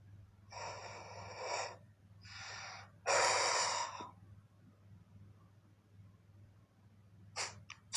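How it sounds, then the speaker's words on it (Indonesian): Heavy breathing, loud close-up breaths and gasps in separate bursts, a few long inhales and exhales followed by quicker short sniffs, with a low steady hum underneath. "suara geraman enggak, itu suara napas."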